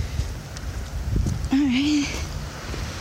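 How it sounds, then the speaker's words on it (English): Low rumbling wind buffets the microphone outdoors on a cold, rainy night, a steady close gusty roar, while someone briefly speaks over it. "now the wind has picked up, so I apologize for any wind noise"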